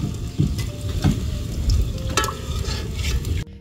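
Water lily flower fritters (shapla pakora) sizzle in hot oil with a steady close frying hiss, broken by scraping stirs and a few utensil knocks before the sound cuts off abruptly.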